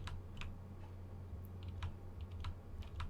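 Keys clack at a steady pace on a fancy gaming keyboard at a computer, with soft, fairly quiet strokes over a low, constant background hum.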